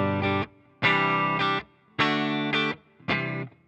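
Clean electric guitar through a Fractal FM3 preset set up for the opening of a cover band gig, played as four separate chords, each ringing about half a second, loud and close with no talk.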